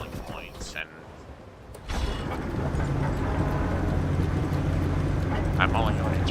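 A diesel generator machine in the video game The Last Caretaker starts up after a short quieter stretch and then runs as a loud, steady mechanical drone close by, with a voice talking over it.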